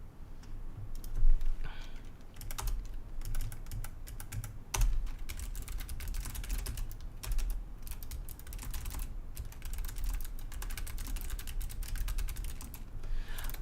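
Typing on a computer keyboard close by, a steady stream of quick clicky keystrokes with brief pauses and a few louder taps, no talking.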